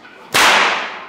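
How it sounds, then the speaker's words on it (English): A single sharp whip crack bursts out suddenly after a moment of near silence, loud and close, then decays quickly. "when you swing the whip, keep your arms straight, imagine a helicopter"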